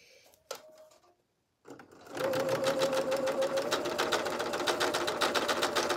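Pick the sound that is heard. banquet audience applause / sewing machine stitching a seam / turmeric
sewing machine stitching a seam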